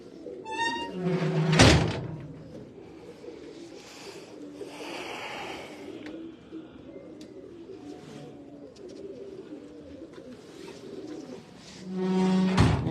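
Teddy pigeons, a large breed from a Faisalabad breeder's loft, coo and call close by, with a sharp knock and some rustling among the birds.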